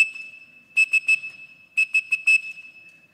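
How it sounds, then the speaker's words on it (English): A pitch-controlled whistle used to operate an AT&T telephone switching system blows two groups of short, sharp tones, three and then four in steady rhythm, each at a single high pitch against a faint steady tone, with no voices. "you blow the whistle like this, and that whistle is the pitch-controlled, the AT&T telephone switching system"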